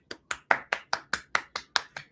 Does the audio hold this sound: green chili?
no